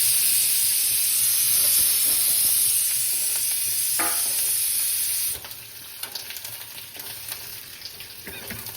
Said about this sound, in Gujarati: તેલ આવી ગયું છે ને મરચા મેથી વાળા બને છે.